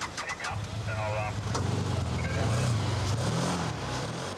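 A lifeguard's car pulling away near a beach, its engine revving with a rising, wavering pitch that climbs over a few seconds, fairly close, with brief talk near the start.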